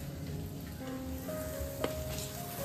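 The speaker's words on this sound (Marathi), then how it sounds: "बटाटे पूर्ण त्या फोडणीमध्ये" Potatoes sizzling in an oil tempering with turmeric and coriander, cooking as masala filling for Mysore masala dosa; a steady, fairly quiet hiss with faint clinks from stirring.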